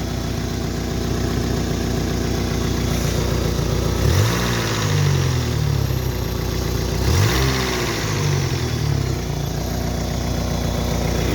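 A 2005 Daewoo Lanos SE T150 engine runs close by at a steady idle, rising twice into short revs before settling back to a smooth hum.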